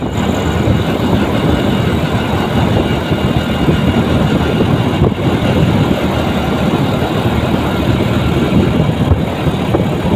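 Motorcycle engine at night on the road toward a toll gate, giving a loud, continuous rumble with wind noise and no clear gear changes.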